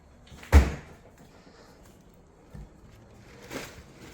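A fridge door in a kitchen shuts with one sharp thud, followed by a couple of softer knocks and rattles, close and otherwise quiet.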